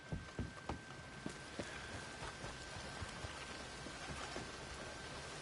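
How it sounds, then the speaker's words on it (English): Rain falls steadily outside during a Red Dead Online livestream, a constant broadband hiss with a few louder drip or patter hits near the start, moderately loud and continuous with no talk. "It's raining outside. I can hear it."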